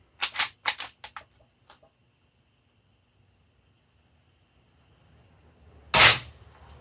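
Shots from a Hatsan Flash QE .25 air rifle: a quick cluster of sharp cracks early on, then a single loud close crack near the end after a long quiet gap.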